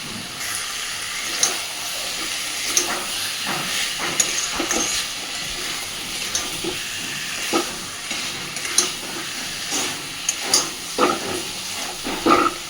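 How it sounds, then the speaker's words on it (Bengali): Chicken sautéed with spices in a pan for chicken kosha gives a steady close sizzle and hiss, with scraping spoon strokes and small clacks as it is stirred. No voices. "চিকেনটা দেওয়ার পরে খুব সুন্দর করে মশলার সাথে চিকেনটাকে কষতে থাকবো বেশ সময় নিয়ে।"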